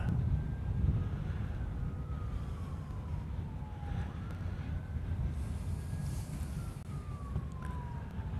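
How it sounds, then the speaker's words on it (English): An emergency siren wails from beyond an airport at night, its tone rising and falling in long slow sweeps over a steady low rumble of traffic and ambient hum, distant and fairly faint. "I'm hearing more sirens, but they're from outside the airport."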